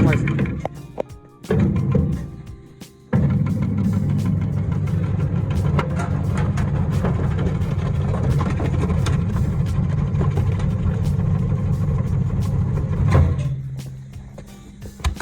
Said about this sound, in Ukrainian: Машина комбо нарізаємо буряк.